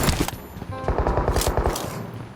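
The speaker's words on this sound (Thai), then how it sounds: "มีเสียงยิงกันอยู่นู่นเลย เสียงไกลมากนะครับ" Rapid bursts of automatic gunfire crackle at a distance in PUBG Mobile, a quick string of shots with short gaps between volleys.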